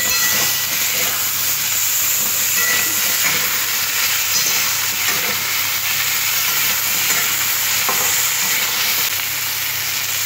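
Potatoes and tomato sizzle and hiss steadily in a hot pan as they are stirred, giving a close, continuous frying sound with scraping stir noises and no talk.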